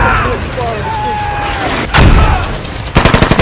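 Toy army men stop-motion battle gunfire: a heavy burst around the middle, then a fast rattling volley of machine-gun shots at the end, loud and close, with a voice shouting over the fighting.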